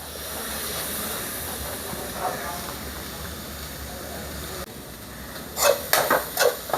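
Fried rice sizzles and hisses in a hot pan as it is stirred, a steady frying hiss with a few sharp scraping clatters near the end, under a Malayalam-speaking voice.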